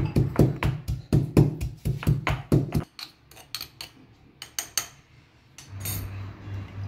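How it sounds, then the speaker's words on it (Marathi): Coriander and spices pounded in a stone mortar and pestle for a thecha paste: a steady run of sharp, rhythmic thuds for nearly three seconds, then scattered, lighter knocks and scraping, with no one talking. "हे सर्व खलबत्त्यात वाटून आपण याचा ठेचा करून घेऊया"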